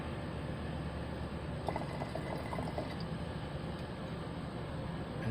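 Solution pours from a still-hot beaker into a nitric acid jug during karat scrap gold refining, a steady faint liquid trickle with a few light drips over a constant hiss.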